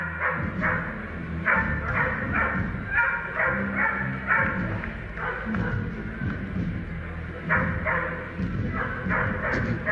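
In a dog show ring holding a breeding group of five dogs, dogs bark and yip repeatedly, fairly near and steady, with crowd noise and a voice in the background.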